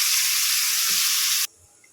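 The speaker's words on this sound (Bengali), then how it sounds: "একটু ভেজে নেব পেঁয়াজগুলো দিয়ে দেবো" Onions go into hot oil with dried chillies for an achari brinjal dish, setting off a loud, steady sizzling hiss close by that stops abruptly partway through, leaving near silence.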